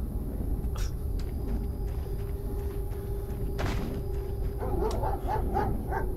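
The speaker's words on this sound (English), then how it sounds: "Did you hear the dog barking, though?" Dog barking in a livestream video game, a few sharp yips and barks over a steady low rumble of game ambience, fairly faint and in the background.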